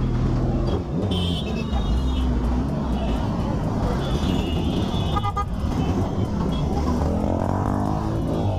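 Motorcycle with a loud aftermarket silencer rumbling in crowded street traffic during a Durga Puja festival, a constant loud engine drone mixed with car horns and crowd noise, with voices throughout.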